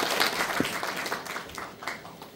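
An audience applauding at a welfare forum in a lifelong learning center auditorium in Dongducheon, a dense wash of clapping at steady volume throughout, with faint voices mixed in.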